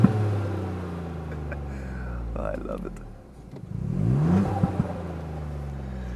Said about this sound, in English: From the start you can hear a bit of turbo whistling